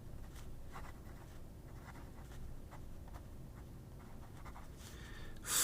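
A MAJOHN Sun Expedition fine nib fountain pen scratching across paper in faint, close, repeated short strokes, with a louder rustle at the very end.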